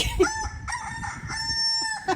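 A rooster crows in a few drawn-out, strained calls, fairly close and clear against a quiet background.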